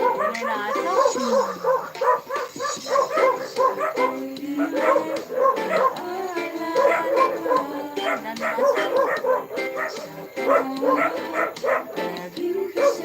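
A dog barks and yips in a rapid, steady series of close, loud bursts lasting throughout, with brief whimpering tones mixed in.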